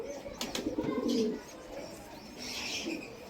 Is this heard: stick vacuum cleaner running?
no